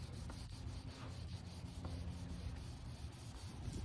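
A foggy Infiniti G35/G37 headlight lens being sanded with a restoration kit, producing a steady, continuous rubbing scrape with a soft rhythmic back-and-forth texture, close and fairly quiet throughout.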